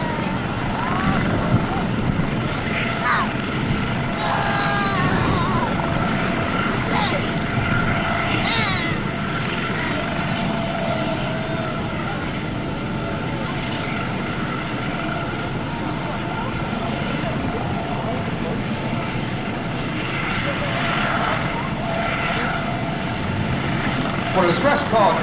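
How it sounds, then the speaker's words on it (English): A Coast Guard HH-65 Dauphin helicopter from Air Station Atlantic City flies a demonstration at an airshow, its rotor and engine making a constant loud, broad drone throughout, with voices heard over it. "HH-65 Dauphin helicopter is from the Coast Guard Air Station, Atlantic City."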